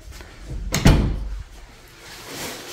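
An interior door in a rental house swings open with a short bump and creak near the middle, surrounded by light room noise and no talking.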